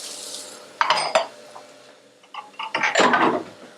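A spoon scrapes and clinks against a pan while curry powder and turmeric are mixed in, a few short metallic bursts separated by quiet gaps, close and clear.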